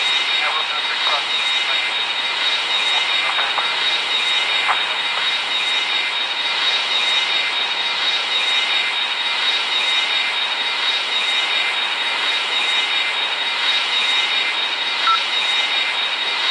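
A Qatar Airways Boeing 777 at Atlanta gives a steady, loud jet engine roar with a high whine throughout, as heard from inside the cabin.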